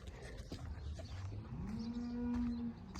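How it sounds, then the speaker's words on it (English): A cow in a hot field gives a single low, drawn-out moo that swells and holds before trailing off, set against light rustling and faint background noise outdoors. "Gotta move cows again. Checking on cows."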